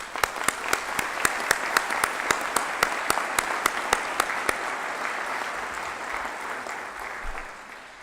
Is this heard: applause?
yes